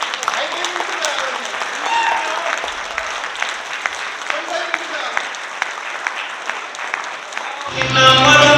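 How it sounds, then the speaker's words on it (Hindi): An audience at a motivational speech in Delhi claps loudly for several seconds, with scattered sharp claps over a continuous wash. A voice speaks over the clapping, and a louder burst arrives near the end. "एक बार खड़े होकर जोरदार तालियां बजा लो पहले"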